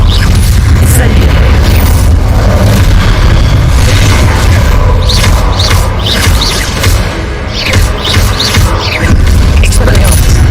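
An Incendio fire spell cast in Hogwarts Legacy bursts out with heavy booming fire blasts and crackling impacts amid game combat noise, loud and dense, with a voice calling out over it.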